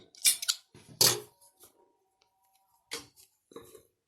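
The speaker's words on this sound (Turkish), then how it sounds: "Burada ipimizi keselim." Scissors snip through crochet yarn up close in a few sharp, crisp cuts, clustered at the start and again near the end, with silence between them.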